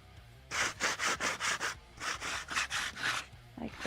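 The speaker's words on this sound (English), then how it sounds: "And then we're going to take our sandpaper." Sandpaper rubbed back and forth along the edge of old packaging in a run of about a dozen quick, close, rasping strokes with brief gaps between them.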